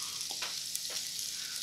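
Onions hit hot oil in a small frying pan for chicken tetrazzini, giving a steady, close broadband sizzle with a couple of brief stirring scrapes, no voices over it.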